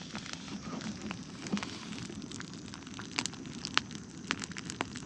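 Campfire burning at a ranch at dusk, giving off scattered sharp crackles and pops over a soft steady hiss, close by and moderately quiet, with no talking.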